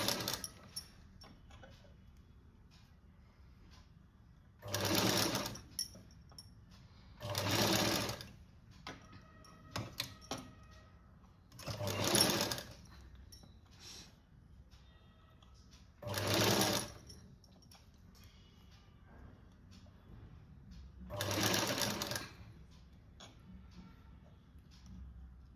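Sewing machine stitching pleats along the lower edge of a puff sleeve, running in five short bursts of a few seconds each, separated by quiet pauses with faint handling sounds.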